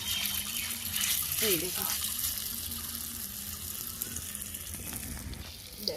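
Ash gourd fritters frying in hot oil, giving a steady crackling sizzle throughout as they are added one by one, with someone speaking briefly over it and faint clinks.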